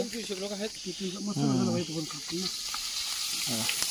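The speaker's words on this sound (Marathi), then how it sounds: "कांदा तर परतवायला टाकलाय" Chopped onion fries in oil with turmeric and salt for a large mutton feast, a steady sizzling hiss running throughout while someone talks over it.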